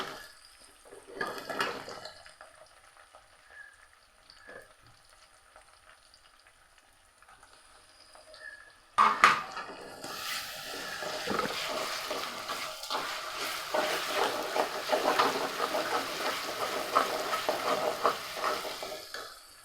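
Ground cumin spice paste frying in a pan for liver gravy: a quiet crackle at first, then from about nine seconds a loud, steady sizzle with stirring scrapes that keeps going to the end.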